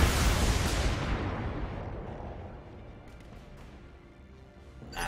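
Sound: mech weapons firing in BattleTech video game

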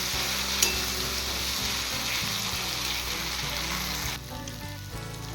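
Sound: vegetables frying in a pan with green chili and cumin paste

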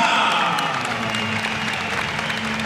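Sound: audience applause after a Muay Thai fight

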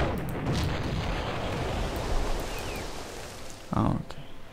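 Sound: cannons firing at a ship in the video game Cossacks

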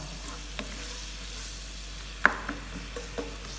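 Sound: onions frying until golden brown

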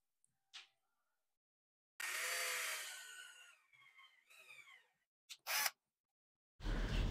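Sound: drill boring pilot holes to screw closet door rails

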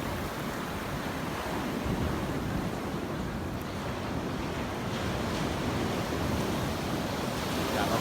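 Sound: sea waves at Hat Chao Samran beach

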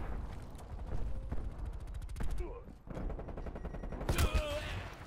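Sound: burst weapon gunfire in video game COD Cold War

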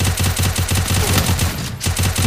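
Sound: gunshots in a video game

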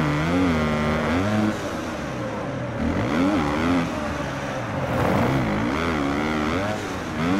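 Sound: Kawasaki supercross motorcycle engines racing

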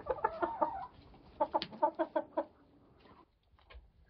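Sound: roosters clucking in a garage

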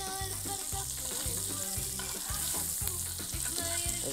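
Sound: sauce sizzling in a pan with added butter

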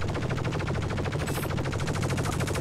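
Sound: gunfire destroying a turret in Star Citizen video game

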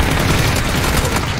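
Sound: grenade explosion in a video game shooter

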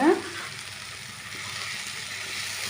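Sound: avalakki (flattened rice) added to sizzling tempering

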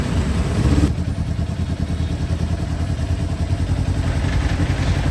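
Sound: motorcycle rolling in second gear

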